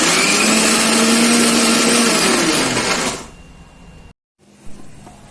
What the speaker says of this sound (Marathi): मिक्सरला लावून घेते आता